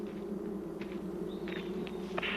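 African bees buzzing steadily near the hive, a continuous droning hum with a few brief higher whines from individual insects passing close.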